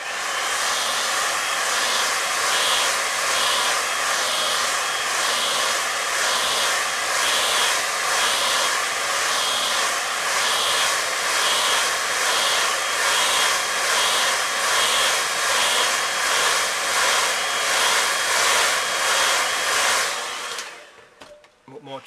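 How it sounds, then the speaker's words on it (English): A hairdryer blasts continuously on a watercolour painting of the Isle of Arran, a loud steady whooshing roar with a faint pulsing texture that runs for about twenty seconds before cutting off abruptly. "Give it a quick blast with the hairdryer."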